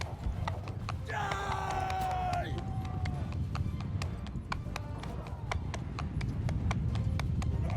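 In Mount & Blade II: Bannerlord, rapid, steady hoofbeats of a galloping horse over a low rumble, with a brief tonal sound early on.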